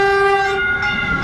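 Caltrain commuter train on Silicon Valley rails, a loud sustained horn-like harmonic tone over steady rumble and rail noise, close and continuous with no talking.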